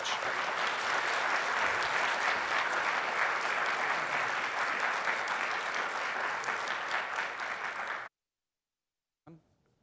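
A conference audience applauds steadily to welcome a speaker to the stage at a higher-education session. Dense, even clapping fills the room for about eight seconds, then stops abruptly, followed by a brief faint noise.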